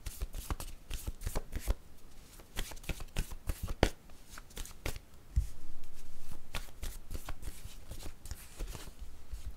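Cards being shuffled for a tarot-style reading, a run of quick riffling flutters and soft slaps close up, with no voices.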